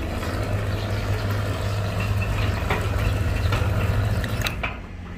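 An automatic sliding gate opener motor drives the gate along its track with a steady low hum, holding constant for several seconds before it drops and stops near the end, with no talk over it.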